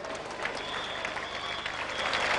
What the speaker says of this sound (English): the players get a standing ovation from the crowd